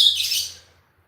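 Pet birds kept at a home garden chirp in a short, bright burst of high tweets, close and fairly clear, fading out to near silence within a second.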